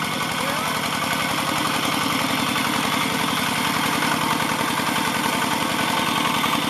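A walk-behind tractor engine labours while plowing a rice field, a loud continuous chugging drone with a steady rapid pulse throughout. Indistinct voices are faintly mixed into the noise.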